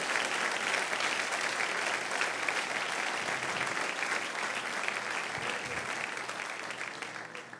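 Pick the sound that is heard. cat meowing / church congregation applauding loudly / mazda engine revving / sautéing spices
church congregation applauding loudly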